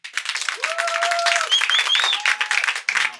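Steady crowd applause fills the space, many hands clapping continuously while a few whistles or cheering voices rise above it, an audience voting by clapping for the dog-lovers' side.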